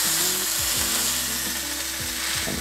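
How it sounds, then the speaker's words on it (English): Steady broadband sizzle of a smash burger frying in hot beef tallow, with intermittent low mechanical ratcheting and clunks underneath, fairly close and constant. "the burger tallow is frying the burger"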